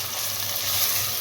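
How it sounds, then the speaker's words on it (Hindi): Garlic ginger paste frying in a pan with minced keema, giving a continuous close-up sizzle that holds steady and fairly loud throughout the short stretch, with no voices. "इसको लहसुन अदरक पेस्ट को भून लें"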